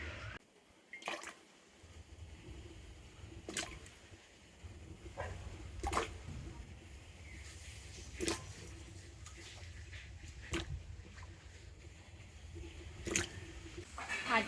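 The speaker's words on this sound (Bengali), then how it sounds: "আর কড়াতে আমি দিয়ে দেবো জল। আর এই জলের মধ্যে কেটে রাখা আম নিয়ে দিয়ে দেব।" Cut mango pieces dropped into water in a wok, soft wet squishes and splashes spaced a few seconds apart over a steady kitchen background hum.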